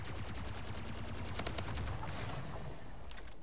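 Rapid gunfire in Splitgate, loud and continuous bursts of shots close by over about three seconds with no talk.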